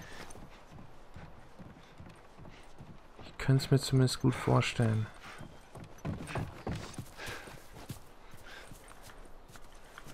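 Horse hooves clip-clop in a short, loud burst during The Last of Us Remastered gameplay, standing out over steady background game noise while someone talks in German.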